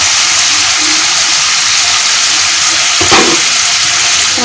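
Loud, steady sizzling of tomatoes dropped into a hot pan with pointed gourd and prawns, a continuous close frying hiss with a brief stir-like rustle partway through.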